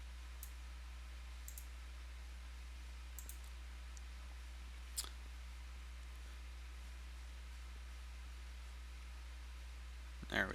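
A computer mouse clicks sparsely while a website is being edited, a handful of faint, isolated clicks over a low steady hum, with a slightly louder click near the end and no talking.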